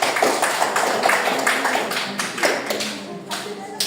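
Students in a classroom civics lesson clap for a classmate, a close, lively burst of hand claps mixed with a few voices, fading somewhat toward the end.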